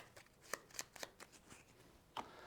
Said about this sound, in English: giving those a good shuffle.